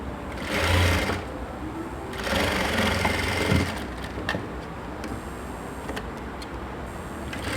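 A sewing machine stitches a layered lehenga skirt in short bursts, two louder whirring runs followed by lighter, intermittent stitching nearby.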